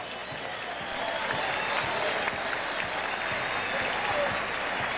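A stadium crowd at a 1999 Copa Libertadores football match between Cerro Porteño and Corinthians applauds a Cerro Porteño star being substituted off. The clapping is steady, dense and sustained from start to finish.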